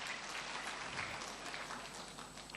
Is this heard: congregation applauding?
yes